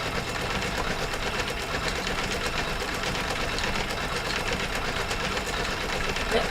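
A sewing machine stitches a bag in continuous, steady mechanical hum and rapid ticking with no pauses, fairly close and alone.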